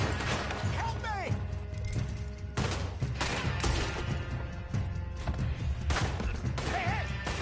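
Gunfire from a sniper fight in Red Dead Redemption 2, scattered sharp shots cracking every second or so over mechanical clicks and a busy background, with faint voices underneath.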